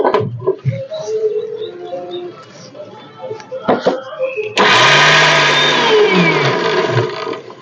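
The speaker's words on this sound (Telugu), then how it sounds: "మరి ఇప్పుడైతే నేను గ్రైండర్ చేసుకుంటున్నాను" A mixer grinder whirs loudly, grinding soaked lentils with green chillies and ginger into a thick batter for summer pumpkin vadiyalu; it starts abruptly after a stretch of quieter talk and runs steadily to the end.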